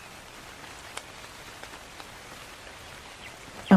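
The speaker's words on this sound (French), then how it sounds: "Oh, il pleut." Rain falls steadily in the video game ARK as a soft, even hiss with a few faint scattered drop ticks, then a sudden louder burst cuts in at the very end.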